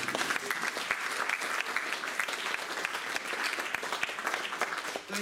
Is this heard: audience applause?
yes